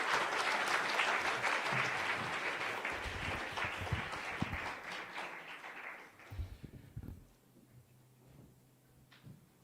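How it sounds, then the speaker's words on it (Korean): Sustained audience applause at an academic seminar welcoming a seminary theology professor to the lectern, loud and dense for about six seconds before thinning to scattered claps and room noise. "여러분들 한번 큰 박수로 환영해 주시기"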